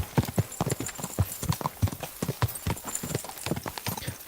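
Hooves of a horse clip-clop loudly and close by in the Kingdom Come Deliverance 2 video game, a brisk, even rhythm of sharp knocks that continues throughout with no talk.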